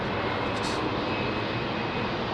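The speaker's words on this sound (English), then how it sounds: "CFM powered, I think it's a CFM powered 320 with Aer Lingus" An Aer Lingus Airbus A320 with CFM engines at Heathrow at night gives a loud, steady jet roar that fills the whole stretch without letting up.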